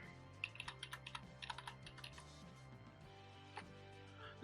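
Quick run of light clicky keystrokes on a computer keyboard as a keyword is typed, about a dozen taps in the first two seconds then a lone tap later, faint and close with no talk.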